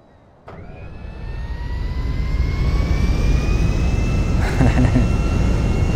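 Airplane engine in a video game spooling up, a sudden onset followed by a steadily rising jet roar with climbing whine tones, loud and close, with a brief burst of extra noise near the end.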